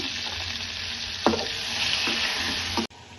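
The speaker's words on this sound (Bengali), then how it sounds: "আমি দিয়ে দেবো একটু হলুদ পটলের উপরে ভাজার জন্য।" Pointed gourd frying in hot oil with turmeric, bay leaves and whole spices in a pan. A continuous close sizzle carries a few sharp stirring scrapes and clicks, alone with no talk, then cuts off abruptly near the end.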